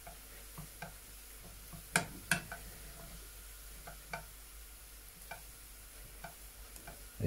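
A spoon working through a thick flour batter, slow scraping stirs with a few sharp knocks against the bowl over a steady low hum, fairly quiet and without speech.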